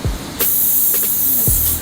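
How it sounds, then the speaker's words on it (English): Cooking spray hisses from a can onto a waffle iron in a kitchen in two short bursts, one long and steady, a brief pause, then a second, close and loud. "Let's go ahead and spray this."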